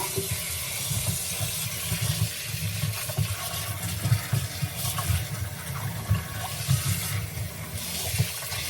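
Tap water gushes steadily over fruit and vegetables being rinsed in a sink before slow juicing, a continuous close splashing rush with occasional louder surges and no talk.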